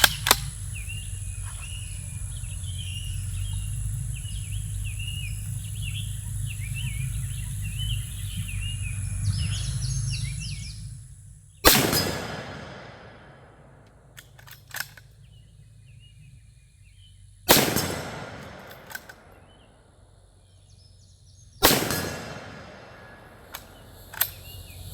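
A 450 Bushmaster rifle fires three loud, sharp shots outdoors, each followed by a long, fading echo, several seconds apart. Birds chirp and a low rumble come before the first shot.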